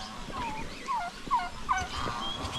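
Several tom turkeys on a farm gobble in quick short bursts, four or five rattling calls at moderate distance over faint background noise.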